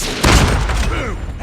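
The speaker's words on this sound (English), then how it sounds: "Grenade out." A grenade goes off in Call of Duty Mobile, a loud booming burst with rumbling debris that swells and decays over about a second, with other game sounds in the mix.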